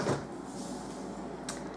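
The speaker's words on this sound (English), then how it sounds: "Okay, so I'll shut the door." Door of an LG American style fridge freezer swung shut indoors, a brief muffled thud and a short sharp click close up, with a faint hum of the room behind.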